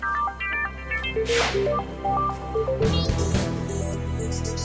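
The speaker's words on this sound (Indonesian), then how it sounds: "HP Siska bunyi mulu. Siapa sih?" A mobile phone ringtone plays a bright beeping melody of stepped tones, loud and close, interrupted by a couple of sharp whooshing swipes and a clattering burst near the end.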